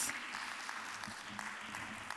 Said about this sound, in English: a round of applause for her as she makes her way to her seat